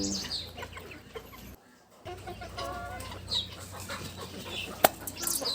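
A village chicken clucks in bursts alongside wing flapping and scattered yard noise, with a brief silent gap and a sharp knock near the end.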